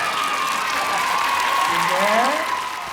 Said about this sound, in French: Applaudissons Ginger.